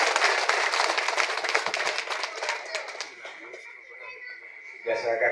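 An audience at a village gathering for Gunung-Buah claps in a dense burst that gradually thins and fades, followed by speech.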